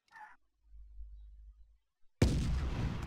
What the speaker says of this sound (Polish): Już nie ma tych niebieskich kulek, piłek, tylko są armaty prawdziwe.